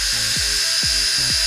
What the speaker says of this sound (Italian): è il motorino del Remington